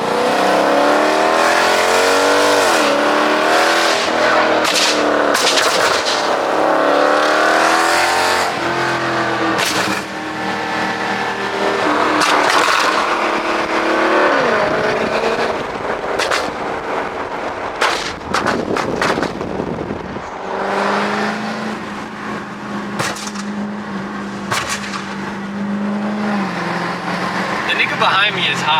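Dodge Challenger 392 Scat Pack with a tune for exhaust flames, revving hard with loud crackles and pops from the exhaust, heard close and continuous as people talk and shout over it.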